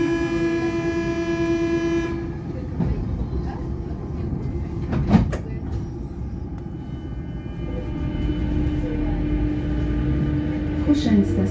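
A Toulouse metro Matra VAL 206 train runs between Basso Cambo and Balma Gramont, a steady loud rolling rumble with a tonal whine at first and a brief clunk midway.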